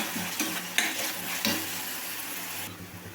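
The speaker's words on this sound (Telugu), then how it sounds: "సాల్ట్ వేసుకోవడం వల్ల ఉల్లిపాయ అనేది చాలా ఫాస్ట్గా అయితే వేగుతుందండి" Salted onions frying in a pan, a close steady sizzle with a few quick stirring scrapes and clinks of a spoon against the pan, no voices.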